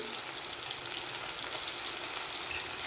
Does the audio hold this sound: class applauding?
no